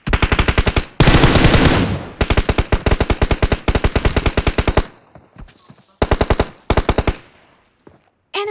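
Gunfire in an online shooter video game: loud bursts of rapid automatic fire with short pauses and a few scattered single shots, close and continuous, with no talk over it.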